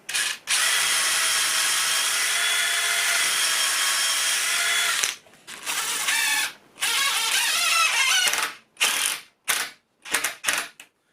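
A power drill drives a screw into pallet wood while building a bar: one long steady whir, then a run of short, choppy bursts as the screw is seated.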